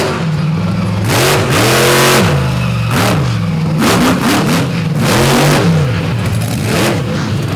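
A monster truck engine at a Benson, North Carolina night show revs loudly and repeatedly as the truck pulls a wheelie, pitch surging up and falling back in several close, powerful bursts.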